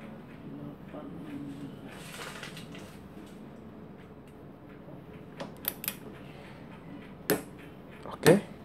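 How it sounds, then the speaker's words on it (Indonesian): A click-type torque wrench is tightened on a soft joint until it releases, giving a few sharp, distinct metallic clicks near the end over faint background noise and low murmuring. "pakai kunci klik biasa sampai bunyi klik."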